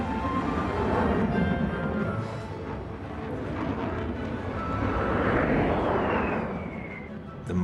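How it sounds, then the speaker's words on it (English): A Lockheed SR-71 Blackbird spy plane passes over an airshow crowd, a broad roaring jet rush that swells and fades across several seconds, with a rising whine in the middle and a murmur of spectators throughout. "That veteran of the Cold War, the Lockheed SR-71 Blackbird spy plane."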